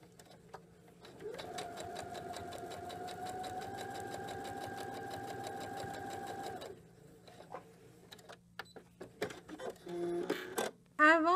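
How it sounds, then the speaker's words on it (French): Sewing machine stitching a diagonal seam joining two fabric strips for a binding, a fast steady mechanical whir for about five seconds, then handling clicks and rustles. "Je rentre la bande dans la machine et je viens faire ma couture sur la ligne"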